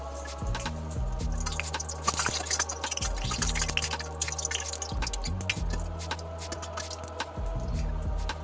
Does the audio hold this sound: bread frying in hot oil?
yes